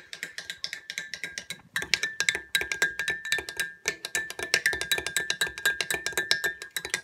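A metal spoon stirring coffee in a cup, rapid rhythmic clinks against the ceramic in quick repeating bursts, close and bright, continuing for several seconds with no voices.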